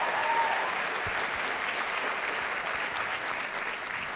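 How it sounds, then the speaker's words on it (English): A school district audience gives a round of applause, even and continuous clapping heard from a little distance at a soft level throughout. "I think she deserves a rousing round of applause."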